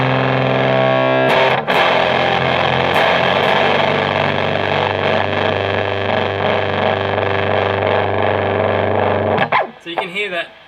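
Loud, sustained guitar feedback through stacked fuzz pedals: a harsh, droning howl with buzzing distortion that holds steady for several seconds, broken by a few scraping clicks, then cuts off into sputtering noise.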